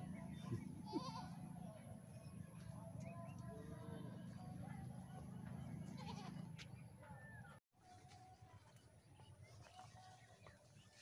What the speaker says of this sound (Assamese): আৰু চাহ বাগানৰ মাজত ছাগলী